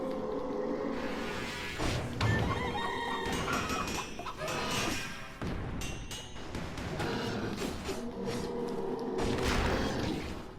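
Clucking from the player transformed into a chicken in Dead Cells, busy repeated clucks mixed with game music and combat effects, continuous throughout.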